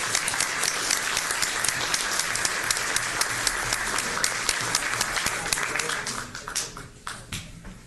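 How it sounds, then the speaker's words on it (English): A room full of people applauding steadily at a county commissioners court meeting, dense clapping that thins and trails off toward the end. "One more round of applause."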